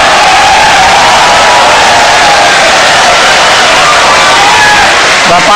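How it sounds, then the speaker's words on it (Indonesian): A debate audience applauds and cheers loudly and continuously, a dense wall of clapping and crowd noise that fills the hall without a break. "Silakan tepuk tangan."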